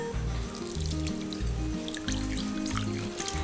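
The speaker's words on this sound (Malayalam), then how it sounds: "ഈ തേങ്ങാപ്പാൽ ഒരു പാത്രത്തിലേക്ക് ഒഴിക്കാം" Freshly ground coconut milk is poured into a vessel, a light splashing trickle heard over steady background music.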